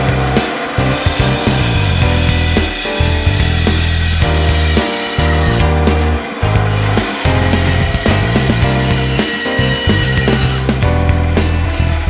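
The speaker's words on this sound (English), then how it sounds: "Now I'm going to cut off each end on the bandsaw" A bandsaw cuts the ends off a turned wooden rolling pin, a loud continuous mechanical drone with a low hum that changes tone as the blade passes through the wood, briefly easing in between cuts.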